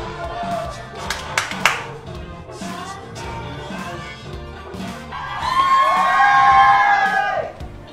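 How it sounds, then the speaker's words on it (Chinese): A crowd cheers and shouts with clapping, scattered whoops and voices building to a loud sustained cheer near the end, then fading. "能看那些人在欢呼"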